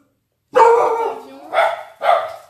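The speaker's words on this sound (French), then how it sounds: "Excusez-moi pour les chiens." Dogs bark close and loud: one long bark, then two shorter ones in quick succession, with silence before them.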